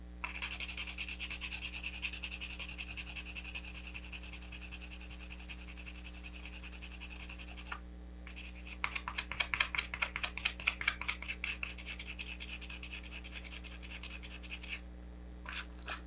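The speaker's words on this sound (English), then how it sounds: "I would use this fiberglass scratch pen to clean everything up and get rid" Fiberglass scratch pen scrapes across a saltwater-damaged memory card circuit board, rubbing in short bursts, then a faster run of sharp scratchy strokes in the middle, close and quiet over a steady low electrical hum.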